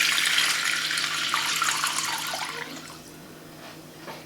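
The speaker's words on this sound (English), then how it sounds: "I'm just putting a bit of water in this bowl" Tap water runs steadily into a bowl, the start of a bramble and apple pie filling, with a bright hissing flow that gradually softens and thins toward the end; no talking.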